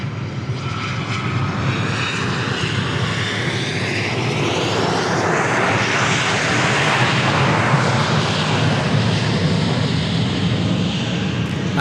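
Airliner engines roar at Dallas Love Field airport, a loud continuous rumble that swells and sweeps in pitch as a plane passes close by, with no voices over it.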